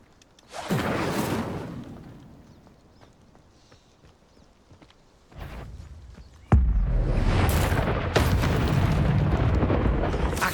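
Incendio fire spell cast in Hogwarts Legacy: a loud whooshing burst of flame swells and fades, then after a pause erupts again into a sustained roaring crackle of fire with sharp impacts, with no talking.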